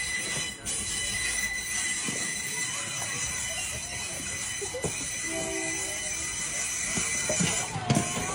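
Train rolling slowly through a busy Bangkok market, with a steady metallic squeal and rumble of wheels on rails, faint clanks, and bystanders' voices in the background.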